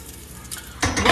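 Chicken pieces laid skin side down in a hot pan give a quiet crackle that suddenly bursts into loud, bright sizzling and spitting near the end.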